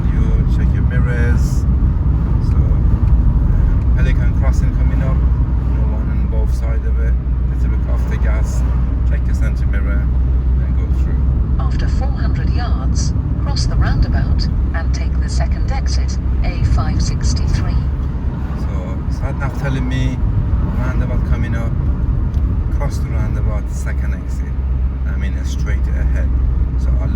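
Car driving along a suburban road with a steady low engine hum and road rumble heard from inside, under a voice giving ongoing instructions.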